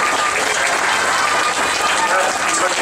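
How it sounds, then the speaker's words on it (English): Audience applause at a county fair sheep show, a steady dense wash of clapping that fills the whole stretch at close, loud level with a murmuring crowd underneath. "let's congratulate her with another round of applause."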